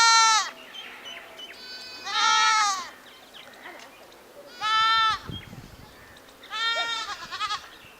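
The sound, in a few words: sheep bleating by the Musi River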